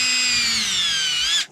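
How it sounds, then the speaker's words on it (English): A power drill whines steadily as it bores holes through the foam exhaust nozzle of a Freewing F-14 model jet, one loud continuous run that stops abruptly at the end. "we're going to go ahead and take a drill, and I'm just going to drill a hole every other"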